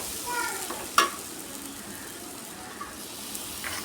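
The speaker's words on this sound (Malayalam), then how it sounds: "എല്ലാം കൂടി നന്നായിട്ട് ഇളയാം മിക്സ് ചെയ്യാം" Beef curry with garam masala, beef masala and pepper powder stirred in a pan, a steady close sizzle and frying hiss with soft scraping of the spoon and one sharp clink about a second in.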